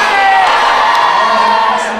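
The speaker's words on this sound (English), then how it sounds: "On 3, everybody shout thank you." A crowd of children shouts in unison at a band concert, a loud sustained burst of cheering voices lasting about two seconds and fading slightly at the end.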